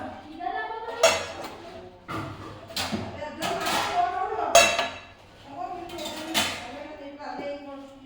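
Pots and dishes being washed clatter and clank in several sharp bursts, close by, with people talking in between.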